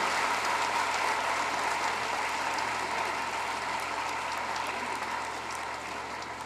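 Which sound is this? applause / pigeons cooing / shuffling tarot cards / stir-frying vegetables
applause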